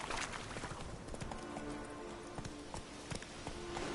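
Roach the horse gallops in The Witcher video game, with a fast, steady clip-clop of hooves close by over a constant background bed.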